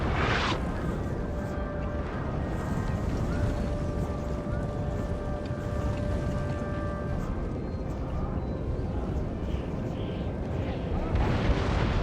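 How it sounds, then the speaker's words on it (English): Distant artillery cannon fire in a Napoleon Total War battle, a continuous low rumbling roar of guns booming from a far hill over line infantry, steady throughout with no talk. "Set up his artillery, a far back hill, firing down on the line infantry"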